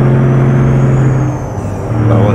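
A Kodiak C8500 truck in American Truck Simulator idles with a steady, loud low diesel drone and a faint high whine above it, the engine note holding even throughout.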